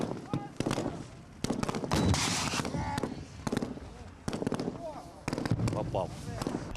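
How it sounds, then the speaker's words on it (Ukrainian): Sharp gunshots crack out in irregular bursts at a Ukrainian territorial defence training range, some close together like rapid fire, with people talking between them. "Постріл!"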